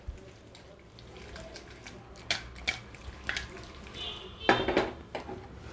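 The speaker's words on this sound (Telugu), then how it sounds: "ఇప్పుడు నేను ఇలా కలుపుకుంటున్నాను అన్నమాట, కదిలిస్తున్నాను ముక్కల్ని." Chicken liver pieces being stirred in a frying pan: scattered metallic scrapes and clinks of a utensil against the pan, a few sharper knocks near the end, over a quiet low background.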